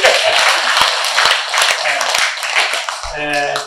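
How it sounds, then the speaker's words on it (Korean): An audience at a memorial ceremony for Syngman Rhee, first president of South Korea, bursts into loud, close applause that tapers off, followed by a voice starting to speak at the end. "박수를 쳐주세요."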